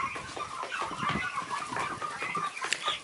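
A flock of chickens clucking and squawking busily at close range, overlapping calls forming a constant noisy chatter.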